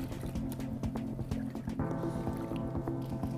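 Filthy water mixed with feces is stirred in a jug, giving close, continuous sloshing and wet squishing with small drips and splashes throughout.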